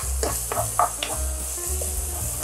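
A spoonful of minced garlic sizzles in a couple of spoons of hot cooking oil in a pan as it is stirred, a continuous close hiss with occasional scraping taps.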